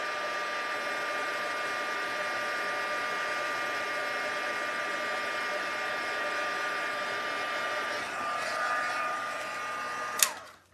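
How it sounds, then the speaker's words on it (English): A heat embossing tool blows hot air over a handmade Easter card, a steady close whooshing hum with a faint whine that holds for about ten seconds before clicking off abruptly. "Always takes a minute just for the heat tool to get going"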